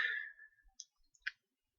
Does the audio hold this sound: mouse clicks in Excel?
yes